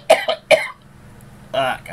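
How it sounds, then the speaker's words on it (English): A man coughs several times in quick harsh bursts, two close together at the start and another cluster after a short pause, close to the microphone with little else around. "hate this cough"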